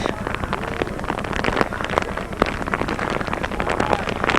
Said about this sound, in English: Big raindrops falling at the moment. Great big fat ones, trying to get you wet in a hurry.